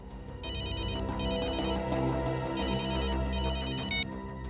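A mobile phone rings with a bright electronic ringtone in repeated bursts separated by short gaps, loud and close over a low background hum, with no talking.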